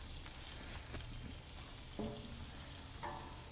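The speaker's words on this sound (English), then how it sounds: "So I'm going to go ahead and throw these on. Listen to that sizzle." Bacon-wrapped jalapeño poppers sizzle loudly on a grill with a dense, steady crackle, and a few sharp pops and metallic clinks break through.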